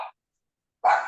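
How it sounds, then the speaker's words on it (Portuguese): Two short dog barks, a clipped one at the start and a louder, fuller one after a pause, close by with no other sound. "Que tá um barulho que o cachorro tá latindo."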